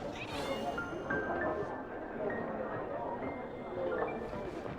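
Cat meowing in the Genshin Impact video game: a few drawn-out meows over game music and background ambience.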